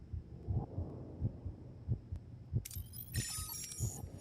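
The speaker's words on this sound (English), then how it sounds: "The heart beating that started." Heartbeat effect in a Star Trek Voyager video game: steady low thumps in double beats about every two-thirds of a second, under a faint hum, joined near the end by a bright shimmering electronic tone.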